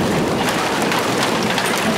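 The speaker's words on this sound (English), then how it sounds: "The hail coming down across the area this evening from pea-sized to golf ball-sized hail." Hail from pea-sized to golf ball-sized pounds down across San Antonio during an evening storm, a steady dense hiss of countless impacts, loud and continuous with no voices.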